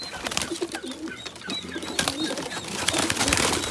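A pigeon near its nest in a zoo enclosure, soft repeated coos and bird calls up close, with some rustling and wing sounds between them.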